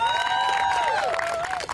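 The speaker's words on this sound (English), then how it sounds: "I would like to give a round of applause for Professor Hampton" Crowd at a student protest in Washington, D.C. cheering and whooping for a professor, with sustained high shouts and whistles over a steady roar, close and loud for the whole stretch.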